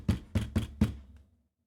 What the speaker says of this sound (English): you guys begin to hear a knock on the door.